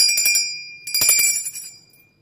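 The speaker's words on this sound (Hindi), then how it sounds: "और इसमें ये घंटी बजाते हैं।" A small hand bell rings during a Hindu puja offering, two quick bursts of bright metallic jingling with a clear ringing tone that decays away at the end.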